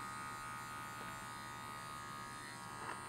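An electric hair clipper buzzes steadily and faintly while cutting a skin fade close to a comb, a constant even hum with no talk.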